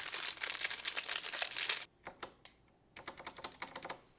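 Keycaps are pulled off a mechanical keyboard at a desk setup close to the listener. Dense plastic clicks and clacks come first, then a short quiet gap, then scattered sharp clicks and rattles that grow busier again.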